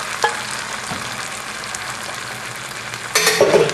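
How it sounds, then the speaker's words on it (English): Eggs for Malaysian goreng telur sizzle steadily in a hot pan. A few light taps of a utensil can be heard, and a sharper burst of frying and stirring comes near the end. "And here go the fried eggs."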